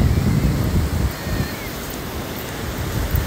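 Rough surf at Kata Noi Beach in Phuket, a steady roar of breaking waves mixed with gusty wind buffeting the microphone, loud and continuous throughout.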